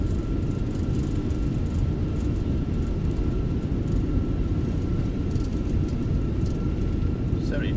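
Fenix A320 airliner in MSFS 2024 on landing rollout with reverse thrust engaged: a steady, loud broadband engine roar and rumble holding constant throughout, with a faint tonal whine above it.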